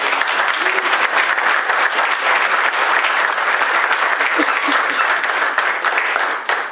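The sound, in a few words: audience applause for ConnectBZ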